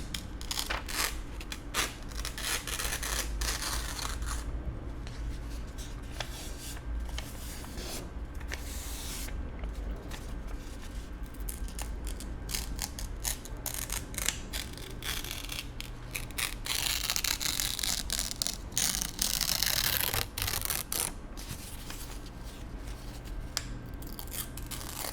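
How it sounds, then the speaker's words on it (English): Paper rustling and crinkling steadily in an art studio, a close, continuous scratchy handling texture with soft shuffles and occasional brighter crackles, no voices. "I'm really enjoying the sounds of the paper."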